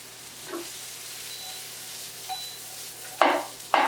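Chopped onions sizzle in hot oil in a pan, with a soft steady fry under a few stir scrapes, then two loud bursts of hissing near the end, close with no talking.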